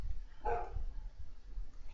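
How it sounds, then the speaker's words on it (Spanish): A dog barks once in a room, a single brief bark heard over low background hum while someone plays Medieval 2: Total War. "Qué perro de mierda, ¿eh? Por suerte no es el mío."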